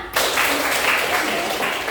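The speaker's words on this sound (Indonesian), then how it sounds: "Rina, tepuk tangan buat Rina" Schoolchildren in a classroom break into a burst of applause for a classmate who answered correctly, a dense wash of clapping starting abruptly and holding steady and loud for nearly two seconds.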